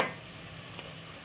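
Tomatoes are tipped into masala paste frying in a pan for aloo palak sabzi, giving a brief quiet sizzle and a soft scrape of stirring, with no talking.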